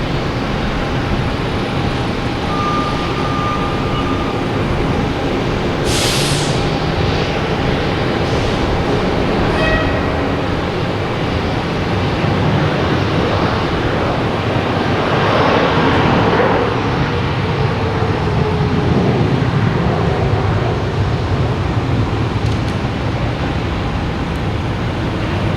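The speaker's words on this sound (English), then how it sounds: "And we have Alaska Airlines going to Seattle." An Alaska Airlines jet airliner bound for Seattle departs Boston Logan Airport, producing a loud, steady engine roar that fills the whole stretch without any talking.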